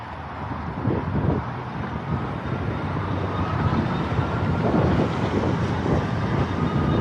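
An Engwe L20 2.0 folding e-bike ridden at top speed on throttle, a steady broadband rush of wind and road noise with a low motor hum, close and continuous without talk.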